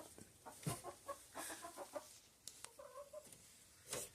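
Chickens on a backyard farm in America cluck in short repeated bursts at close range, with a few sharper squawks and quiet gaps between them.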